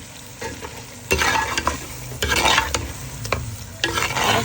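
A spoon stirs masala frying in a pot for aloo gosht, with rhythmic scraping bursts over a constant sizzle, close and clear, no voices.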